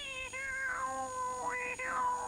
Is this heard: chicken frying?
no